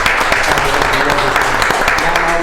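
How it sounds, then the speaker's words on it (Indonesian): Dense audience applause at a podcast-style talk event for a guest doctor, steady crackling claps filling the room at a loud, even level throughout. "Kita beri tepuk tangan."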